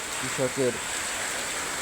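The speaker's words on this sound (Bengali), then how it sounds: "আমরা বৃষ্টির ভিতরে আছি।" Heavy rain falls in Khulna as a steady, even hiss of dense downpour, with a voice speaking briefly near the start.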